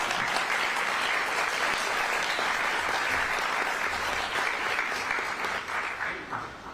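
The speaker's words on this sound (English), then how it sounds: "So can we have another round of applause, please?" Warm audience applause at a live youth presentation event, a thick continuous roar of clapping from a large crowd that holds strong and begins to thin near the end.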